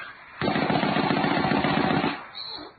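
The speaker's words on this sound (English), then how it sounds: "A round of mercy bullets will put him out soon enough." Radio drama sound effect of a burst of gunfire, a round of mercy bullets fired in an underground hideout: a loud, rapid rattling volley lasting over a second and a half, then cut off abruptly, with no voices.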